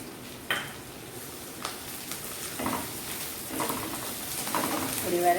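Fried onions with green coriander are stirred in a pan, with scraping spoon strokes over a gentle sizzle that grows slightly busier toward the end.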